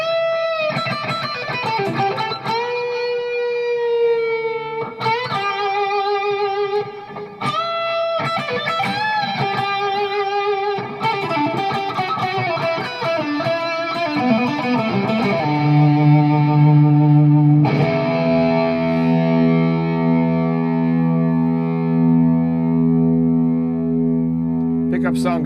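A Firefly Thinline electric guitar played cranked on its bridge pickup rings out heavily distorted, with loud picked notes and chords sustaining into drawn-out feedback, close and alone.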